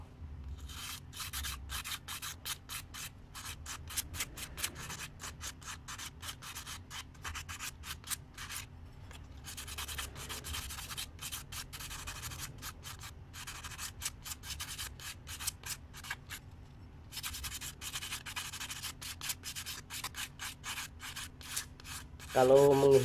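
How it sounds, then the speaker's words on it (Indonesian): Steady rubbing rasp of sandpaper lightly sanding a motorcycle part in repeated strokes, close by, continuing with brief pauses and no talking. "ini kita amplas tipis saja"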